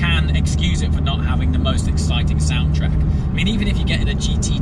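Porsche 911 Turbo S (992) being driven, its muted engine and exhaust drone running low and steady inside the sound-deadened cabin beneath continuous talking.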